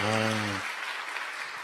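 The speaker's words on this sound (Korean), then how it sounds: "그냥 이렇게 허투루 박수 치는 게 아니라 진심이 느껴져서 좋네요." A church youth service audience applauds to welcome a guest pastor: a brief held tonal sound opens, then moderate, even clapping fills the room.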